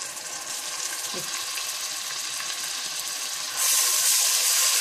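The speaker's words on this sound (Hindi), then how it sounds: "जब प्याज हल्के ब्राउन होने लगे तो आप इसमें पिसा हुआ अदरक लहसुन डाल दें।" Onions fry in a pan with ground ginger and garlic paste during a mutton liver masala preparation, giving a steady close sizzle that swells into a louder, brighter hiss near the end.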